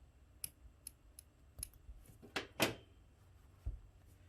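Several sharp scissor snips trimming a crocheted yarn end on a small pumpkin, close and crisp, spaced irregularly with a louder double cut near the middle and one final snip, no talking.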